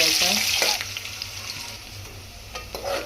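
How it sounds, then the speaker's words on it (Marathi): Chopped onion sizzles and fries in a pan, a close, continuous crackle with stirring scrapes throughout. "कांदा कापून घेतला होता मी एक तो टाकून घेऊया कांदा व्यवस्थित नरम होऊ"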